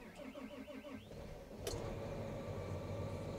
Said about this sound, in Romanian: Sunetul acesta de 6 în linie este deosebit